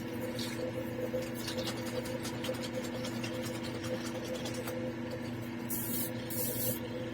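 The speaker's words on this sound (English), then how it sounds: "It's my airbrush." An airbrush spraying green resin paint, a steady soft hiss with brief louder bursts, close by and alone.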